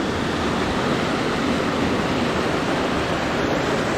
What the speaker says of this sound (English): enjoy this peace and serenity of a babbling brook.